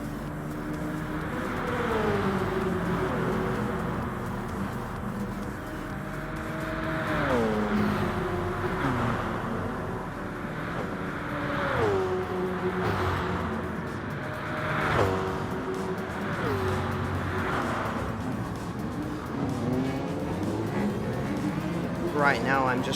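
Race car engines in Gran Turismo Sport during a race, steady loud engine drone with repeated rising and falling revs as gears shift, heard continuously under a person talking.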